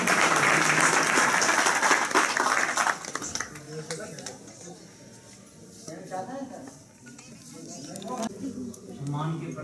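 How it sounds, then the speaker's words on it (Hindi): Loud applause from an audience at an India Intellectual Conference gathering fills the opening seconds, then fades into softer scattered clapping while someone speaks over it, with the clapping swelling again toward the end. "जोरदार ताली।"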